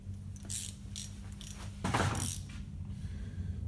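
A quarter-inch ratchet clicks in short bursts as it tightens a hose clamp on a car's intercooler duct, close and sharp, with metallic rattling between strokes.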